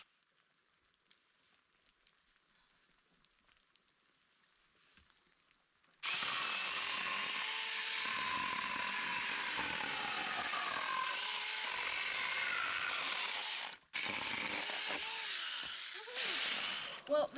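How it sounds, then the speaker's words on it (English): A saw cutting firewood, with a tendency to grab and kick back, starts after several seconds of near silence and runs as a loud, steady, close-up whine for about eleven seconds, with one brief break. "it's cutting quickly"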